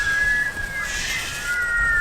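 A person whistles a long, thin, wavering note to imitate the wind, faint and sustained, rising and falling gently with no other sound.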